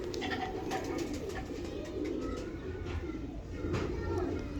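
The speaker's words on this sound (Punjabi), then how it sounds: "ਫਿਲਹਾਲ ਮੈਂ ਆ ਕਬੂਤਰ ਲਾਇਆ ਜਨਾਬ" A golden pigeon coos softly in repeated low calls, close by, over a steady background noise.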